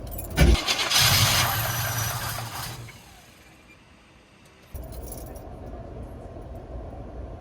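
Dad's old truck engine cranks loudly and briefly catches with a roar, then winds down and falls quiet before the starter grinds again in a steady, close, rhythmic crank.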